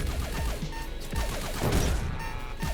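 Sniper rifle shots ring out in the video game Echo Point Nova, several loud cracks at uneven intervals with echoing tails over a busy background.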